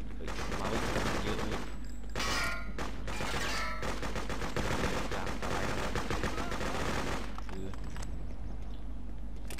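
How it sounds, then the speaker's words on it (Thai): Automatic machine-gun fire in the war shooter game Freedom Fighters, rapid bursts rattling loudly through most of the stretch with brief gaps, mixed with other game noise. "เราต้องหลบวิธีของปืนกลให้ได้ก่อนครับ"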